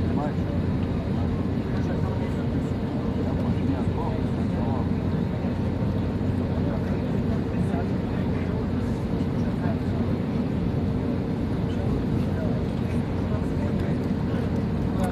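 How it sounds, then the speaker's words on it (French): A passenger airliner on a Tashkent to Paris flight builds speed along the runway, its engines a loud, steady roar heard from the cabin throughout, with voices speaking underneath. "actuellement on prend un peu de vitesse sur la piste avant de rejoindre le couloir de décollage"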